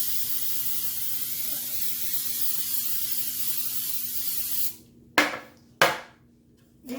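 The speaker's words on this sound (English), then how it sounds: "all I'm going to do is spray them with some Pam" A steady, loud aerosol hiss of Pam cooking spray coating 10-inch baking pans runs for several seconds, stops, then two short spray bursts follow with quiet gaps between them.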